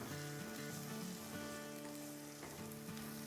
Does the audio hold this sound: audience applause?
no